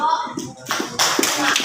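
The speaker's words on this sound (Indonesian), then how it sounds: "kita tepuk tangan buat kelompok" A school class claps for a student group after a presentation, with short, uneven bursts of hand clapping close by and brief gaps, nearly masked by the classroom's own noise.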